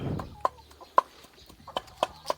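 Laying hens waiting for feed give a run of short, sharp clucks, about five distinct calls spaced roughly half a second apart, fairly close and clear over a quiet background with no talk.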